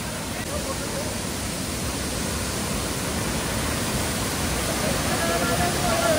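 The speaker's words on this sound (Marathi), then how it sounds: "असा प्रचंड पाण्याचा प्रवाह जो वाहतोय, वरून खाली कोसळतोय, त्याचा आवाज ऐका" A steady, loud roar of Thoseghar waterfall near Satara fills the whole stretch, a constant broad rush of heavy falling water without pauses.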